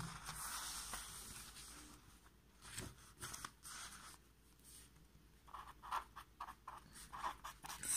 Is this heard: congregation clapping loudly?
no